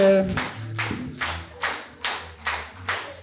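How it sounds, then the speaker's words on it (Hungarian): A concert audience at a Hungarian folk song gala in Gyöngyöstarján claps in unison, seven evenly spaced, punchy claps in a slow steady rhythm, with a low hum beneath. "Köszönjük a sok vastapsot a lelkes közönségnek"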